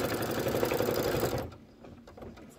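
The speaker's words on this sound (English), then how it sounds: "So I'm just gonna go ahead and put my foot down and stitch those." An embroidery sewing machine stitching window placement lines runs with a fast, steady mechanical whir for over a second, then stops, leaving quiet handling clicks and faint room noise.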